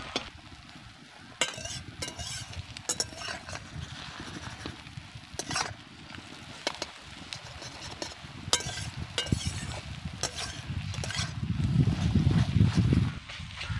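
Beaten egg sizzling in white oil in a wok while being stirred for momos, with scraping spatula strokes and clinks at close range, the frying hiss swelling louder toward the end.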